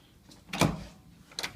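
A door thumps open mid-clip with a brief rattle, followed by soft movement and a second lighter knock as someone passes through.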